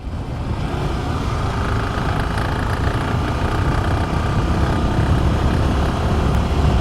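Fast ride on a motorcycle at dusk past Halti Beel wetland, a steady loud engine drone with rushing wind, continuous and close, without pauses.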